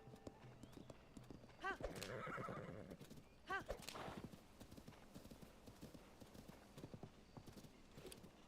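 Horse hooves clip-clop in Zelda: Tears of the Kingdom, broken by two clear whinnying neighs a couple of seconds apart, with quiet talk in the background.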